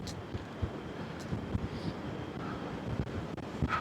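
Strong wind on the deck of the cruise ship Carnival Sunshine on a stormy afternoon buffets the microphone in a constant roaring rush, with occasional gusty thumps and faint background ship noise.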